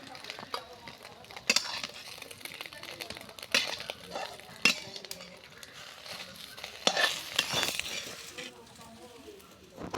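An egg fries in a pan at home with a faint, steady sizzle, broken by sharp spatula scrapes and metallic clinks against the pan.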